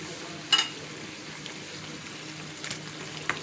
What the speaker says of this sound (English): now it's time to add the boiled penne pasta into the pan